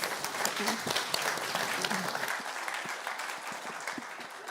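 Audience applause at an evening talk event, sustained dense clapping from a seated crowd with a few murmured voices, gradually thinning toward the end.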